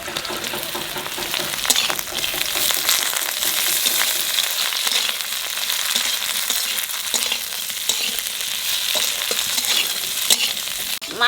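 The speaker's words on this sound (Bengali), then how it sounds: "মাছ দিয়ে 2-3 নাড়া দিছি," Koi fish frying in hot oil with garlic and green chillies, stirred in a pan for a Bengali curry: a steady, dense sizzle runs throughout with scraping stirs, close and loud, no talk.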